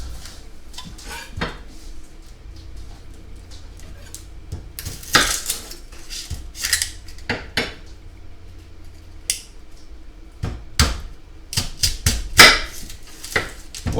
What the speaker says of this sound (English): we're going to cut that onion up